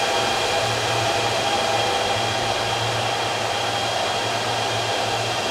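Antminer S19K Bitcoin miners running at full power in a large mining farm produce a loud, steady fan roar with a constant low hum, unbroken and without voices.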